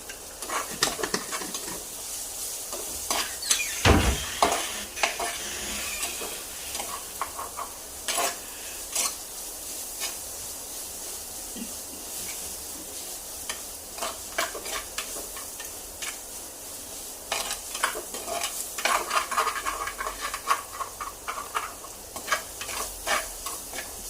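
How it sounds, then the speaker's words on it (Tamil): Chicken with turmeric powder being stirred in a pan, a steady scraping stir over soft sizzling and frying, with occasional clinks of the spoon against the pan, close and continuous throughout. "அந்த மஞ்சத்தூள் சேர்த்து நல்லா கிண்டிக்கோங்க."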